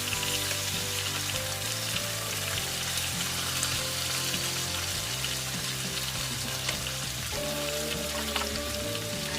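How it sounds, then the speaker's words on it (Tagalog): Chopped onion sautéing in a hot pan while cooking pork with honey, a steady dense sizzle and crackle running the whole time under a faint tonal background, with no voices. "Gisa lang natin saglit yung onion."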